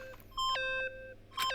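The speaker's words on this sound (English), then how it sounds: "Stop that goddamn beeping and say something" Sharp electronic beeps from the video game Danganronpa (Trigger Happy Havoc), several tonal bleeps in quick succession with a short gap, then another bright beep near the end, heard alone.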